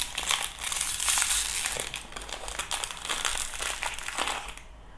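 Plastic packaging crinkles and crackles continuously as an LOL Surprise toy is unwrapped, loud and close, with uneven bursts of rustling that ease off at the end.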